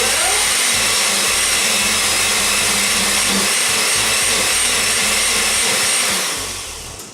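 Blender whirling a green smoothie of leafy greens and stalks, a loud continuous motor roar with churning grind that holds steady before tapering off at the end, no talk.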